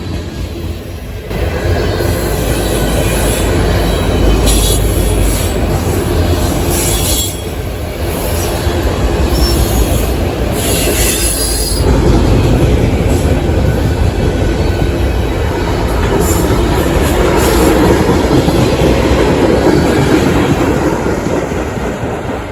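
A CSX freight train led by BNSF locomotives rolls past close by, a loud sustained rumble of wheels and cars with intermittent metallic squeals and swells in intensity, continuing throughout without talk.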